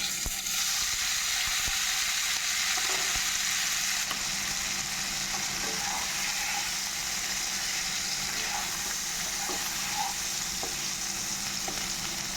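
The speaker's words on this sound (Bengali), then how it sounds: "আলুগুলোকে একটু ভেজে নেব" Boiled potatoes fry in hot oil with salt and turmeric, a steady, continuous close-up sizzle with occasional faint pops and light stirring scrapes.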